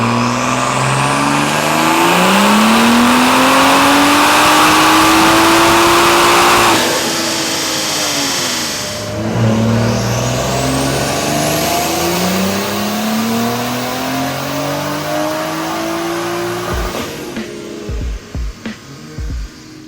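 A BMW B58 turbo car runs on pump gas during a 6th-gear dyno pull, its engine revving loud and close in long rising sweeps, easing off, then climbing again before settling into idle with a few sharp pops at the end.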